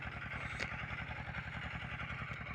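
Walk-behind motor tractor pulling a homemade roller across rough soil, its engine thumping in a fast, even put-put beat with a faint clatter riding on top and no talking.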